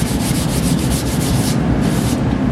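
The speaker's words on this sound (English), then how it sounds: "When you're sanding, when you actually get through, if you still see black, you got to keep sanding." Steady hand sanding with sandpaper on a painted tail light bezel for a 1938 Pontiac coupe, a continuous close, loud rasping rub in long repeated strokes with no talk.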